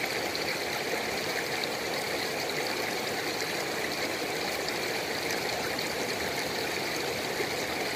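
Gold is panned in a creek, the water rushing and trickling steadily nearby. The broad, even wash of the flow stays constant throughout, without speech.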